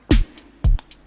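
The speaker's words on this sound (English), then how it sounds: "basically the drum sounds like this" Drum machine pattern playing alone: two strong kick hits about half a second apart, each followed by a bright hi-hat tick and an off-beat hat, crisp and close with no talk.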